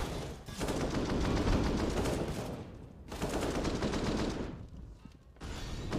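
Rapid automatic gunfire from a CS:GO match, two long sustained bursts with a short gap between them, loud and dense.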